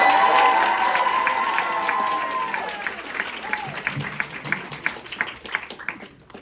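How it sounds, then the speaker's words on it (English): A student stand-up comedy audience at Cornell breaks into loud applause mixed with cheering, which gradually thins out into scattered individual claps. "Give her a huge round of applause."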